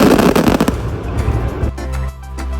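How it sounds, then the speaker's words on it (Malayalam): Fireworks at an engagement celebration held on a river, loud dense crackling and popping bursts close by that thin into scattered sharp bangs over a low rumble. "പിന്നെ നമുക്ക് കുറച്ചൊരു അടിപൊളി ഫയർ വർക്ക് സെഷൻസ് ഒക്കെ ഉണ്ടായിരുന്നു"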